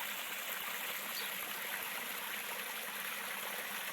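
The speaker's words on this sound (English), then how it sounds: "The water comes in under the wall" A small garden waterfall trickles and splashes steadily with water pouring under a wall, a continuous even rush with no talk over it.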